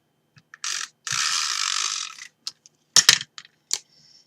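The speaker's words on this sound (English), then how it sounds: "So I'm just going to use the tape runner to save any mess." A snail tape runner lays adhesive on a tall candle box in a quiet papercraft setting, giving short dry clicking and ratcheting bursts, one longer rolling stretch, then scattered close ticks.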